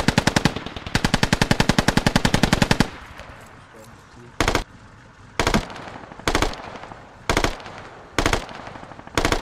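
Machine gun fire from an MTLB armored vehicle in the military shooter game Squad: a loud, sustained rapid burst, then a string of short bursts at regular intervals, close and dominant.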